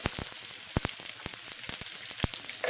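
Onions frying in a tarka for vegan tarka dhal, with seeds popping in the hot oil as a steady sizzle broken by sharp, scattered crackles and pops, close and fairly loud.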